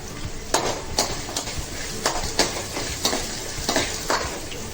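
Asafoetida powder sizzles in hot oil while coconut sevai is being tempered. A continuous frying hiss is broken by repeated scraping stirs from a spatula against the pan.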